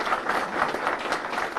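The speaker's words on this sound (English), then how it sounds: "I'd like to give you a round of applause" Steady applause from an audience gathered at a memorial and bridge dedication, dense clapping filling the room continuously at moderate volume with no voices over it.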